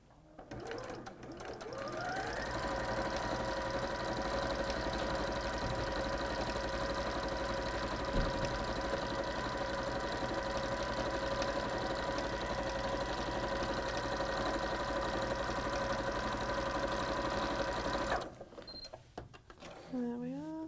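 A sewing machine runs a straight stitch down the edges of a fabric wall hanging. It starts up, whirs steadily and continuously for about sixteen seconds, then stops.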